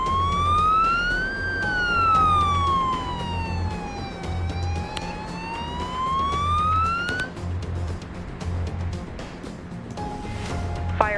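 Police car siren in the Global Rescue video game, a wailing tone sweeping up and down and then cutting out, heard over steady low engine rumble.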